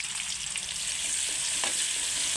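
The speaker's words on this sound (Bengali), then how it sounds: "এবার পেঁয়াজ কুচি আর কাঁচা লঙ্কা কুচি দিয়ে দেব। ভালো করে পেঁয়াজটা একটু লাল লাল করে ভেজে নেব।" Chopped onion and green chilli frying in oil in a wok for chicken kosha, giving a steady, hissing sizzle that continues throughout with a few faint stirring clinks close by.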